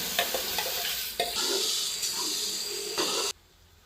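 Daliya tipped into a hot tempering of onion and vegetables in a pan, a loud close hissing sizzle with stirring scrapes that stops abruptly near the end.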